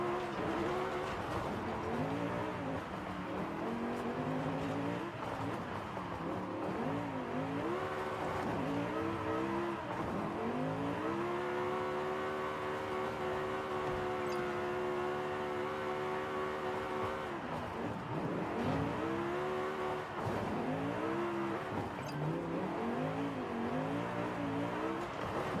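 Porsche drifting in the Forza racing game, a continuous loud engine note rising and falling through revs with tire squeal over it, sustained and close for the whole stretch.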